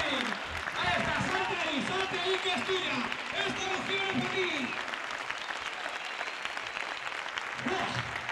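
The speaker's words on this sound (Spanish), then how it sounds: "Vaya ovación de la Plaza de Toros de Medina a este cortador" A crowd at the bullring in Medina del Campo, during a recortes bull-dodging event, applauds in a sustained, dense ovation, heard from within the stands with voices talking over the clapping.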